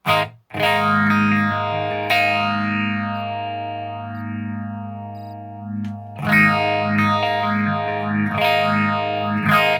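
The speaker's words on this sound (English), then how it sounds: "So right now there's an echo phase mod effect." Electric guitar played through a small JBL practice amp with an echo phase modulation effect, sustained chords sweeping up and down in a steady swirling phaser pattern, loud and alone, with a brief gap before strumming resumes.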